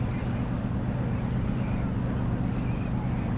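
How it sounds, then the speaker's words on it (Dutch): Wind blows over open tidal water off Terschelling during a sloop sailing race, a steady low rumble with faint watery wash and no distinct events. "En hier ook wat meer wind."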